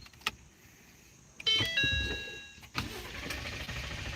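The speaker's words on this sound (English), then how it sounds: "I'm going to crank the vehicle." A Ford F150 pickup engine, one with a cam phaser rattle, cranks for about a second with a whining starter and then catches, settling into a steady close idle with no talking.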